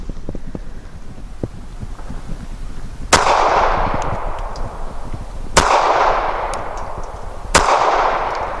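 Three loud, sharp pistol shots from a Springfield Armory 911 .380 firing 92 grain rounds at a target range, spaced a couple of seconds apart, each with a lingering echo and a steady wind noise underneath.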